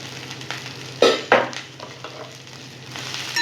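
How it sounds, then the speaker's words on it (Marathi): Okra (bhendi) with cumin, mustard seeds and salt sizzles in a pan while being stirred, a soft, steady frying hiss broken by a few sharp scraping stirs near the start. "पुन्हा एकदा छान मस्त परतून घ्यायची, अगदी हलक्या हाताने परतायची बरं का।"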